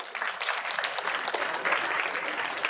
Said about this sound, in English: A big round of applause, children.